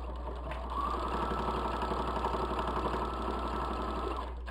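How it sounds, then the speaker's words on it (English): A sewing machine runs at a steady pace, stitching the seam of a fabric bowl cosy, with a continuous, even mechanical whir and a fine rhythmic needle texture lasting several seconds at moderate, close volume. "we're going to sew that side there"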